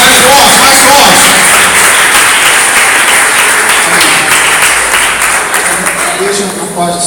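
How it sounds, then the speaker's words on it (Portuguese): Church congregation applauding loudly and continuously, a dense wash of clapping mixed with voices that softens slightly near the end. "Palmas e glórias para Jesus"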